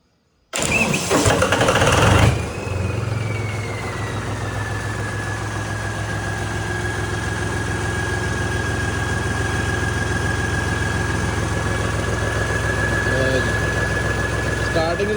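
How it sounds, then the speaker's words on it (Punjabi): A vehicle engine turns over from cold with a loud cranking burst, catches, then settles into a steady close idle with a faint whine that drops in pitch and levels off. "ਇਹਨੂੰ ਹੁਣ ਕਰਦੇ ਆ ਜੀ ਕੋਲਡ ਸਟਾਰਟ"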